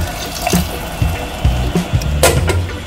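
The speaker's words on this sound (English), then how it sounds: "Now we can add a bit more of water." Water pours and splashes into a pot in short gurgling bursts, close by, with faint clinks and no talking.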